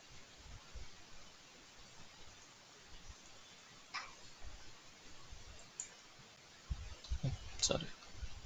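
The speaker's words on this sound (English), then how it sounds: "I'll click." A computer mouse gives a few faint, isolated clicks spaced seconds apart against a quiet background hiss.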